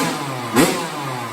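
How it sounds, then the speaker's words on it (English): A 2012 Kawasaki KX100 dirt bike with a new Wiseco top end idles steadily, a constant buzzing putter with one brief blip of throttle midway. "Got a very nice idle on it."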